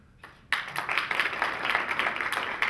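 A crowd breaks into applause for sponsors at a 2017 sportsperson-of-the-year ceremony, starting suddenly and continuing as dense, steady clapping after a brief quiet lead-in.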